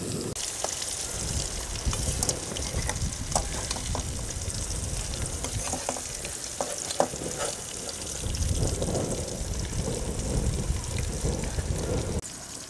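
Vanjaram fish fries lightly in a pan before going into a gravy. The sizzle is a steady, close crackle with scattered pops and some stirring, and no one speaks.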